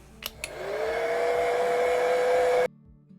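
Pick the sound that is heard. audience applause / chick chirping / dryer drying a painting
dryer drying a painting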